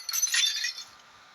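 A single hit shatters a pane of glass, giving a bright crash and tinkling shards that die away within a second, fairly close and without speech.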